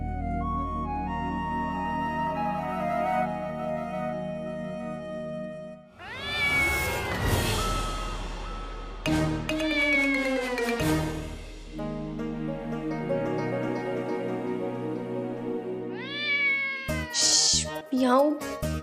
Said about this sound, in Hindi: म्याऊ, खाला की बच्ची, शिकायती बिल्ली